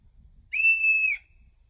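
A single organ flue pipe sounds one sustained, pure whistle-like tone of about half a second, clean and steady, starting and stopping abruptly against near silence.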